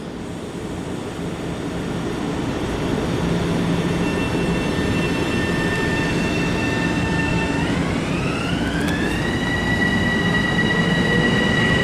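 A Long Island Rail Road train rumbles past close by, loud and steady, its wheels squealing with rising pitched tones near the end as it works through switches.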